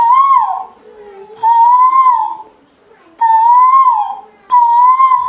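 A bansuri bamboo flute imitates a koel's call in four clear, rising whistled phrases separated by short pauses, played close and alone.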